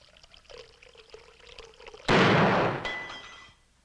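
Water trickles into a gourd set on a chest as a rigged trap, a short gush of rushing pour noise rising abruptly, holding for about a second and a half, then thinning and stopping, with a faint thin tone near its end.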